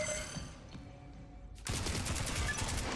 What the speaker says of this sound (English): Splinter grenade out.